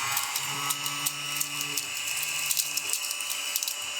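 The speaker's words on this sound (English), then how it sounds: "I have a vacuum robot that will clean this right up" A small robot vacuum works across a desk cleaning up spilled pepper, giving a steady close whirring motor hum with rapid ratcheting, clicking brush sounds throughout.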